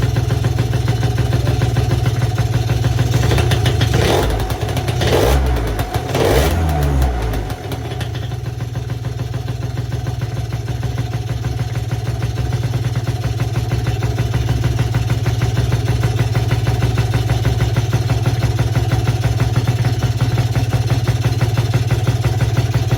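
A Piaggio Zip 70cc scooter engine cranks a few times, catches and settles into a steady buzzing idle that runs on evenly and close by, with no talking.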